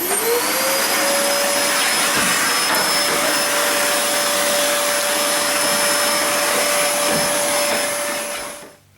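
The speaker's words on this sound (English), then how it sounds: "I'm quickly going to hoover this out before removing the thermostat" A vacuum cleaner hoovering fluff out of a White Knight tumble dryer's vent tube, running loud and steady with a high whine, then cutting off near the end.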